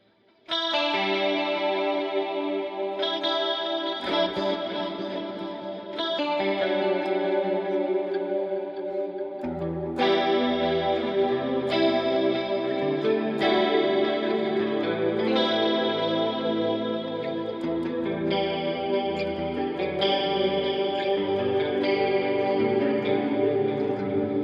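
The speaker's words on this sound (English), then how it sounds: "So here's some clean chorusy tones with this guitar." Clean electric guitar run through a chorus effect plays sustained, shimmering chords and notes in several phrases, loud and continuous with a swirling, slightly reverberant tone.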